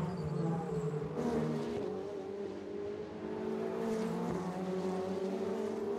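Ferrari Challenge race cars on the Montreal track, engines droning and revving at a distance with shifting pitch as the cars pass, fairly faint and continuous.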